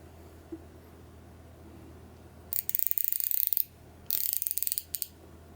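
A 3/8-inch quick-release ratchet clicks in two quick bursts of rapid, crisp ratcheting, close and fairly loud against a quiet background.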